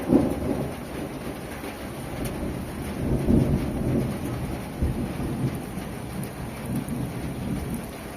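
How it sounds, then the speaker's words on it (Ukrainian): Steady rain patters while low thunder rumbles in the distance, rolling in a few soft swells. "Грім десь там."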